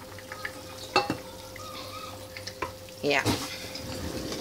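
Potatoes going into a pan of beef semur, Indonesian sweet soy beef stew, with soft frying and stirring clatter, a couple of sharp clinks near the start and a louder splash and sizzle toward the end, someone speaking briefly.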